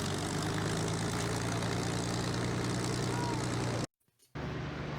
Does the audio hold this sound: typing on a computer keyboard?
no